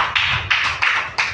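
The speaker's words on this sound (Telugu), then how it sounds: "కొట్టు చప్పట్లు గట్టిగా మరొకసారి." An audience at a Friday fasting prayer meeting claps in four loud, evenly spaced bursts, each a sharp onset that fades, close and without talk.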